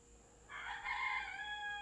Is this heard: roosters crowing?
yes